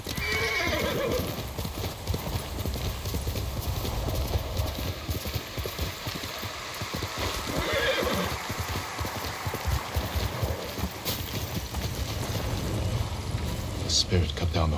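Horses gallop with steady clip-clop hooves and repeated neighs throughout Ghost of Tsushima Director's Cut, a samurai action game set on Tsushima, loud and continuous over a rainy ambience.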